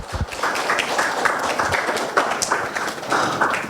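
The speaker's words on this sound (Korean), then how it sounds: "평가위원분들께 감사의 박수 한 번만 부탁드리겠습니다" Audience at a Korean metaverse-developer training presentation clapping in thanks for the evaluators, a ragged, uneven patter of individual claps and taps from a smallish group, fairly close.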